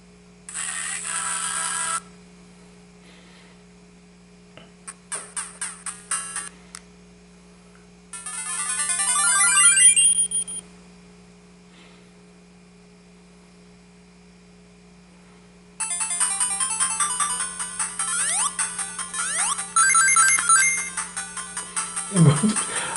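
Chiptune bursts of melody and jingles from a Sega Game Gear Micro handheld console play through its small speaker in separate segments with pauses, over a steady low electrical hum.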